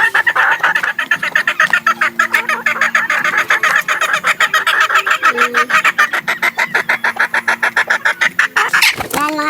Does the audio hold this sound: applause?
no